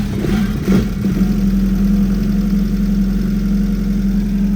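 A rebuilt-starter 2009 Honda Aquatrax F15X jet ski engine cranks briefly and catches, then settles into a steady, loud idle hum that continues alone without talk.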